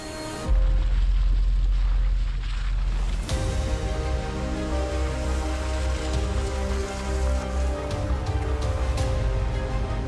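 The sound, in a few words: heavy rain in a forest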